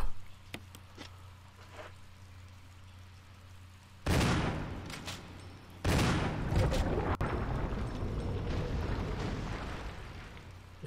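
Shotgun blasts in Resident Evil: two heavy booming shots a couple of seconds apart, each followed by a long rumbling tail that fills the rest of the clip, with no talking.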